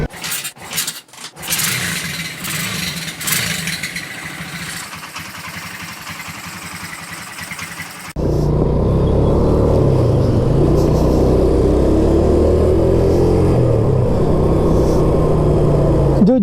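A 2006 Yamaha Jupiter Z underbone motorcycle revs in uneven bursts, settles into a softer idle, and then drones steadily and loudly up close in the second half.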